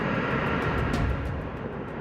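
Engines of a Tu-160 supersonic bomber aircraft, a loud, steady jet roar that fills the whole clip, with a brief rushing swell near the middle.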